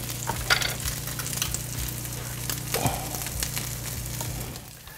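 Crab cakes frying in a pan, a steady close sizzle and crackle with small pops and spatters throughout, no talking.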